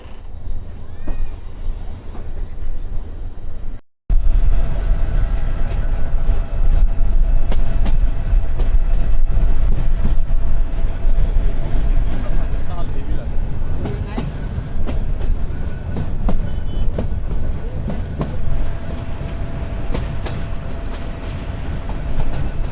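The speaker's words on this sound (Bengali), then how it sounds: "তো দশ মিনিট পরে আমাদের ট্রেন রংপুর রেল স্টেশন থেকে ছেড়ে গেল" A meter gauge train pulls out of Rangpur railway station and runs along the rails, a loud continuous rumble of wheels and carriages with rhythmic clatter, after a brief quieter stretch and a short cut at the start.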